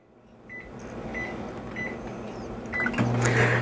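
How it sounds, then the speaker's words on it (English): A microwave oven runs on high power cooking bacon, a steady low hum with a higher whir, several short beeps early on and a louder shift in the hum near the end, close by and alone. "on high power, in your microwave oven for, I'm going to give it 12 minutes"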